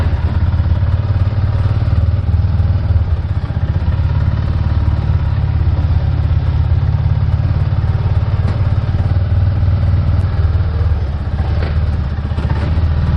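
A Mule utility vehicle in four-wheel drive climbs with a loud, steady, close engine drone and rattling clatter, constant throughout, with no talk.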